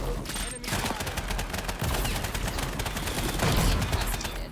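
Rapid bursts of gunfire in the online shooter Off the Grid, dense and continuous with overlapping shots throughout, mixed with game effects and faint voices.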